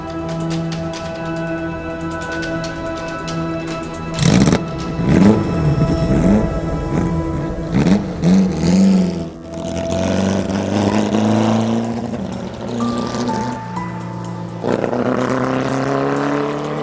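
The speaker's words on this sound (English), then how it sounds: "My partner in crime is the Porsche 718 RS60 that actually won the Targa Florio" A 1960 Porsche 718 RS60 race car, the Targa Florio winner, revs hard on a Sicilian track, its engine climbing through several sharp gear changes, loud and close, then settling into a steady high drone.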